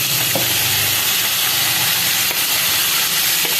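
Smoky eggplant bharta batter with yogurt, dhaba style, poured into a hot pan, giving a loud steady sizzle and hiss of frying that continues unbroken, with no talking.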